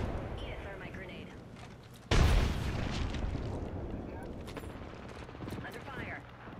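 Grenade blast in Apex Legends: a sudden loud burst erupts partway through over busy battle noise and rumble, with players talking throughout.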